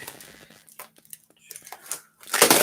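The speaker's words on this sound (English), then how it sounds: "Hopefully these scissors will do the trick." Scissors snip and crackle through packing tape on a ukulele box in irregular bursts, with crinkling and a louder tearing rip near the end, up close.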